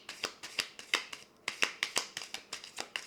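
Tarot de Marseille cards are shuffled close up in a brisk run of crisp riffles and flicks, about a dozen sharp bursts with a short pause midway, and no speech.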